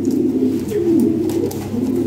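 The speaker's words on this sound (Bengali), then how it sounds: "এই এক জোড়া কবুতর দেখেন" A pair of fancy pigeons, Baghdadi Huma type, coo steadily and continuously up close, the low rolling calls filling the whole stretch without any talk.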